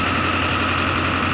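A Hindustan tractor engine idles steadily and close by, a continuous low diesel rumble with a faint knocking pulse and a vibrating hum that holds even throughout, with no voices.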